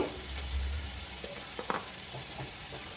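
Turmeric being stirred in a hot frying pan gives a steady sizzle with a few faint scraping stirs, while a voice speaks quietly over it.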